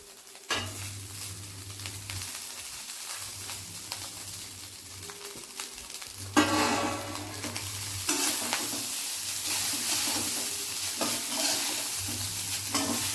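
Rice being stirred into a hot pan for coconut rice, close scraping and light sizzling in repeated strokes over a low intermittent hum, growing busier partway through.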